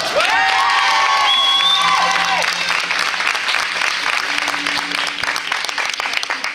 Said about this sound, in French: je vous demande une ovation pour Brian Trésor